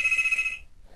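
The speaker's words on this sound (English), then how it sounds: "Whose phone is ringing? My home phone." A home telephone rings with a bright electronic trill for about half a second, then stops, leaving quiet room tone behind.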